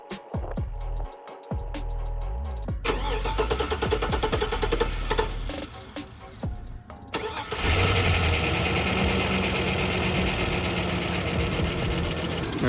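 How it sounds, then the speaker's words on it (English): A 1957 Chevy with an LS engine swap and a new fuel pump cranks, stumbles, then fires and settles into a loud, steady idle, running close by with a slight valve clatter and no talk. "So now we're just gonna add some fuel and see if she starts."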